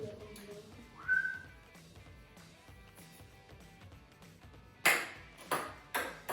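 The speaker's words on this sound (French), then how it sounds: "Si la balle siffle, c'est que c'est une bonne balle" A brief, high whistling sound of a ball cutting through the air, followed later by a few sharp, loud pops.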